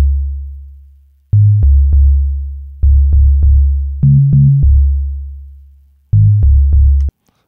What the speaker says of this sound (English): we've got a pure sine wave from oscillator A, and then I'll turn it up a little bit to give it some teeth